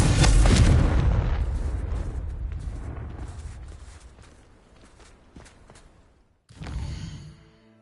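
A Confringo spell explosion in Hogwarts Legacy bursts with a loud, booming blast that rumbles and fades over several seconds, then a second, smaller blast erupts near the end.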